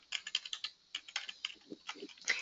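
Computer keyboard typing in quick irregular bursts of clicks and key taps, close and fairly quiet, with brief pauses between runs and no talking.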